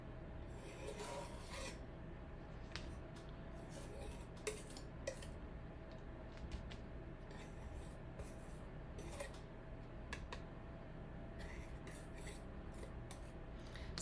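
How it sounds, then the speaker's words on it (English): A palette knife scrapes paint around the edges of a home decor craft piece, a steady, close rasping and rubbing with scattered sharper scratches over about fourteen seconds, quiet and continuous with no talking. "I'm just scraping paint on here right now, you guys. But I'm only gonna do it around the edge."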